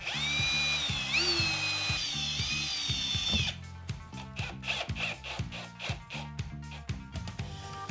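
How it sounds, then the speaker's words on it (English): A power drill whines loudly and steadily, then shifts to a bursty, ratcheting grind as a self-drilling toggle-type anchor is driven into drywall, close by. "These are self-drilling, just like the basic screw-in type drywall anchor."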